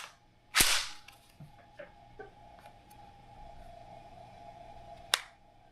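Tavor X-95 bullpup rifle dry-fired, giving a sharp click near the start and a second crisp snap of trigger reset near the end, with faint handling noise between.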